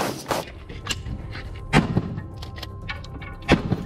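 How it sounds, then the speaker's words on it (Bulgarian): A flashbang grenade goes off during a police SWAT raid, sharp percussive bangs repeating at irregular intervals with muffled thuds and clatter between them. "If they don't see any movement, there's a flashbang, so they're trying to draw his attention."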